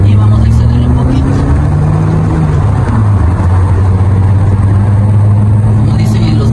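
A Fiat 500 Sport with a 1400 engine, switched into Sport mode, revs steadily and loudly close by, its engine tone rising and falling in a continuous mid-pitched drone.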